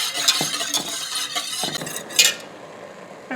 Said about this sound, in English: keep stirring this until we get to a good boil